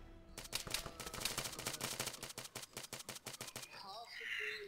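Rapid bursts of automatic gunfire ring out in Arma 3 Apex, a dense rhythmic volley of shots that ends abruptly, followed by a brief softer tail of game ambience.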